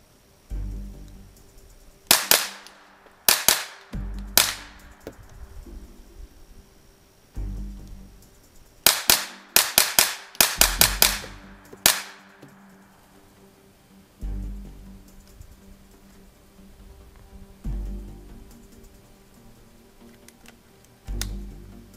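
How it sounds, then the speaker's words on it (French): Rifle shots fired as fast as possible at an upturned cane in a forest, sharp loud cracks in quick bursts of several shots separated by pauses, with quieter handling noises between. "Le but c'est de épauler puis tirer le plus vite possible les 5 balles dans la canne."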